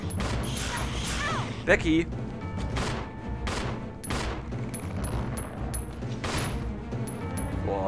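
Rapid gunfire blasts at Hunters in Resident Evil Zero, a dense run of sharp, loud shots with short gaps, mixed with creature sounds and a voice shouting over the shooting.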